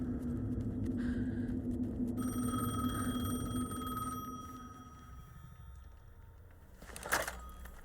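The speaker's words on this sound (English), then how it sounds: "The phone again." A telephone rings in the video game Alan Wake 2, a sustained ring sounding over a heavy low rumble of ambient game atmosphere, followed by a brief louder clatter near the end.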